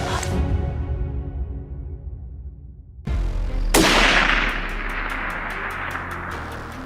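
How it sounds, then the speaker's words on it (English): Rifle shots fired at a saltwater crocodile on a hunt in the wilds of Northern Australia. Loud sharp reports ring out, two close together mid-clip, then long echoing decays. "Shoot him again, he's all yours."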